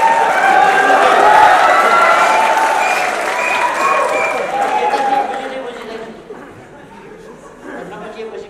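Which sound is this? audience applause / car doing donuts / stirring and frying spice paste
audience applause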